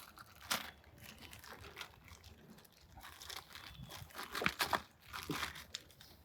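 Thin plastic bag crinkling and crunching in short, uneven bursts as a DuraSafe trolling motor lock is pulled out of its packaging, close and fairly quiet, with louder rustles near the start and toward the end.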